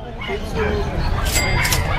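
Several dogs bark and yip up close inside a large dog exhibit tent at an outdoor event in a grotto, with excited whimpers mixed in and people talking over the commotion.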